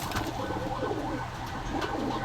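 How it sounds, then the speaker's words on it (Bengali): Tulo pigeons, a small high-flying breed, coo in low overlapping burbles close by, with faint flutters and chatter of a busy pigeon market behind them. "খুব সুন্দর কোয়ালিটির কবুতর তুলো"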